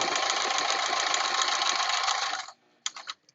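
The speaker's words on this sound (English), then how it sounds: "I've got my fingers on the next corner and we're going to keep sewing." A sewing machine stitches a fabric face mask toward a corner, a steady, close, rapid mechanical whir running continuously for a few seconds before stopping, followed by a few short clicks.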